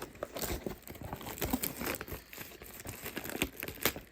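Scissors cut through the plastic wrapper of a 2024 Absolute football card mega box, with crinkling, tearing plastic in uneven close bursts and small snips, alone and fairly quiet.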